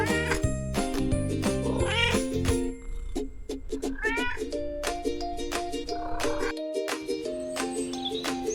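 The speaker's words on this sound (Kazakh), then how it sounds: "Мысық. Мяу," A cat meows repeatedly over a musical backing, the calls rising and falling in a drawn-out, wavering way.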